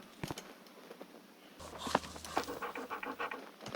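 A dog in the Roblox game Grow a Garden pants in quick, steady breaths, close and clear, with light pattering and clicks around it and no talk.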